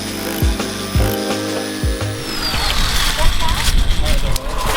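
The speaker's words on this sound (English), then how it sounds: "chip out some old mortar and concrete, which fortunately with that chisel tool that we have, amazingly easy" A chisel tool chips out old mortar and concrete from a block wall on a shop build, making a loud, continuous rough grinding and chipping clatter with people talking over it.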